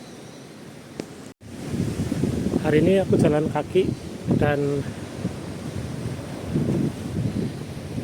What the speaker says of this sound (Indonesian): Ini angin lautnya lagi kenceng banget.